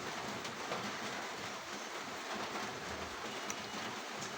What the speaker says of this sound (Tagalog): Yan, medyo umina yung ulan.